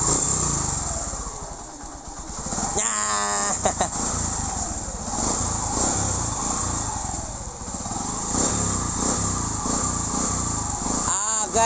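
A Suzuki STX125 motorcycle engine runs steadily after its wire harness was replaced, a continuous mid-level mechanical drone with a few sharper bursts and rattles, while people talk nearby.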